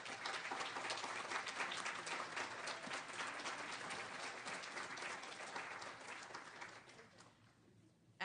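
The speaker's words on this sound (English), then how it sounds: "please stand for a round of applause" Steady applause rolls through the audience at a long-term care awards ceremony, a full room clapping continuously before fading out near the end.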